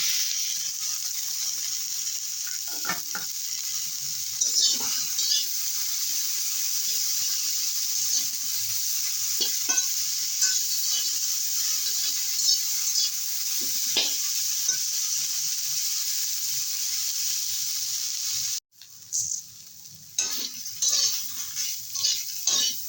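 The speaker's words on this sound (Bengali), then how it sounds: "পাঁচ ছ মিনিটের মতো নেড়ে চেড়ে ভেজে নেবো" Chili skins stir-fry in a pan over low heat, giving a steady soft sizzle with scattered scrapes and clinks of a spatula against the pan and a short break near the end.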